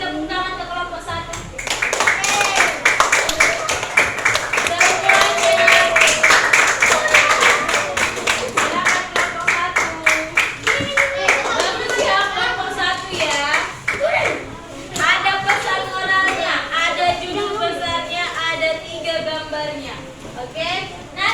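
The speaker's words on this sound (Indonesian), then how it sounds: "Coba semua kasih tepuk tangan ke kelompok 1." Schoolchildren in a classroom clapping together for a group of classmates, rapid rhythmic hand claps with children's voices chattering and calling out over them throughout.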